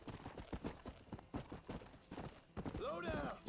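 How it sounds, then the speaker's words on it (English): Horse hooves clip-clopping in Red Dead Redemption as a rider gallops, a steady rhythmic beat of close, fairly loud hoofbeats under a voice talking over the game, with a brief whinny-like cry near the end. "basically run over them with your horse."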